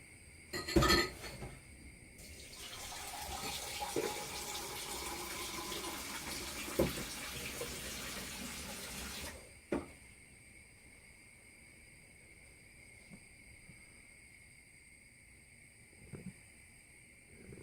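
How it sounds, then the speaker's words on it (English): Dishes being washed at a kitchen sink while making a cheese omelette: tap water runs steadily for several seconds, then stops, with scattered clinks of crockery and cutlery, close and fairly quiet, no talk. "While you're doing this, you can wash up."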